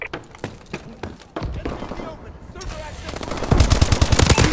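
Gunfire in the video game Call of Duty: Advanced Warfare: sharp single shots at first, then dense rapid automatic bursts that grow louder and heavier toward the end, with voices talking under the fire.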